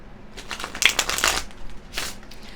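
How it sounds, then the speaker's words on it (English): Tarot cards being shuffled, a close, soft riffling and sliding of card stock in a few quick bursts, heard alone in a quiet room. "I'm going to take a look at those while I'm shuffling the tarot."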